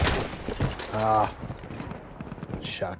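Shotgun blasts in the video game Battlefield 1 on the Argonne Forest conquest map, a few loud bursts amid battle noise and distant gunfire, with some background voice activity.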